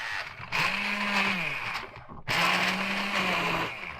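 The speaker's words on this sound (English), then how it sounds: "the one gadget that I have on this boat for the kitchen is my little handheld blender" A small handheld stick blender whirs through food in a narrowboat galley kitchen, powered through an inverter, in two loud sustained bursts of steady motor buzz separated by a brief pause.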